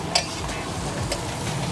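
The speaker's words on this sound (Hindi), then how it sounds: "अभी जो सारा बटर और प्याज का तड़का है ये भाजी के साथ मिक्स कर दिया बस" A spatula stirs butter and onion tadka into pav bhaji on a hot griddle at a night street food stall in Panipat, with soft scraping and a faint sizzle plus a couple of sharp metallic taps.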